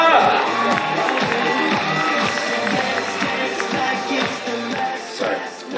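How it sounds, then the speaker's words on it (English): Audience in a cruise ship show theater cheers, whoops and claps loudly, a dense crowd roar with shouts rising near the end. "can we get a nice big round of applause"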